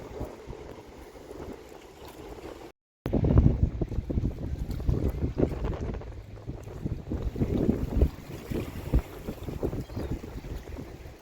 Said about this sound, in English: The waves are coming up in there.